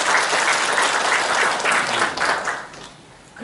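Sustained, dense applause from an audience at a civic forum held in a workers' cultural centre in Gumi, steady and loud, then thinning out toward the end.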